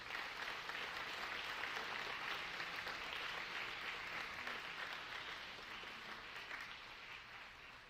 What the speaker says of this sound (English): I do want to take a moment to give them a round of applause